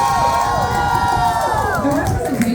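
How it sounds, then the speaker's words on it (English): A drag show audience cheers and whoops in a bright, lively burst of raised voices, close and energetic, lasting a couple of seconds. "Can we give a fucking round of applause for that?"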